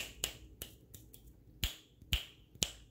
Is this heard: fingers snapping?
yes